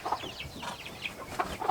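Backyard chickens, including a White Rock hen, clucking in short soft bursts, a few quiet calls spread across the moment with no talk.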